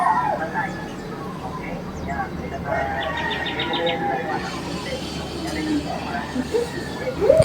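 Calm outdoor ambience with birds chirping and a distant rooster crowing, over a steady low background hum.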